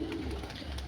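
Two female Malwai pigeons give a brief, soft, low cooing murmur up close, lasting under a second.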